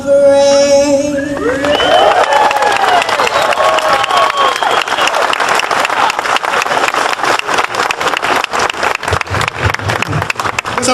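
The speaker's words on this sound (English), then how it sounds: "Let's have another round of applause." Audience at a ceremony for the Zero Net Energy Center in San Leandro breaking into applause after the national anthem, the sung final note giving way to loud, sustained clapping and some cheering.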